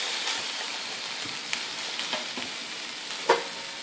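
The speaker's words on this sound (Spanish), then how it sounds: "Y con una cuchara vamos a menear muy bien." Onion, tomato and chile sizzle in hot oil in a frying pan while a spoon stirs them, a steady close crackle with a few soft scraping knocks and one sharper clink near the end.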